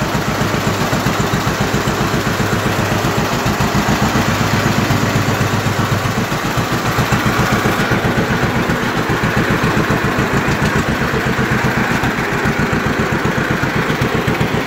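Antique John Deere tractor engine running as the clutch engages, a loud, close, steady rhythmic chugging thump that holds an even pace throughout.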